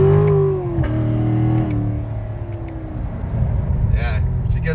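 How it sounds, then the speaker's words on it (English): Corvette C7 Z51 V8 in track mode revving under load, with pitch sweeping and dropping through crisp downshifts, steady engine drone filling the cabin while people talk over it. "The downshifts are crispier on the track mode."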